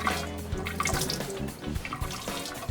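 Water poured over hands from a vessel for ritual handwashing, a close splashing and dripping stream with uneven spatters and trickles, continuous for a few seconds.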